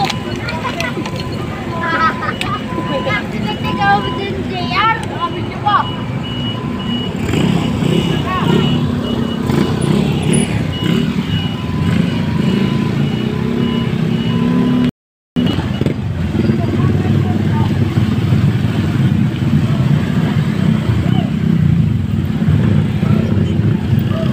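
Motorcycles pass along a village road in Talisay, Batangas, their engines a steady droning rumble rising and fading in the background while a person talks over them close to the microphone.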